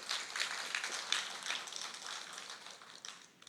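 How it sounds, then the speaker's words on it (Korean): A church congregation at a Sunday worship service in Siheung claps together to welcome a newcomer, a soft, distant patter of many hands that fades out toward the end. "우리 같이 한 박수로 환영하십시다."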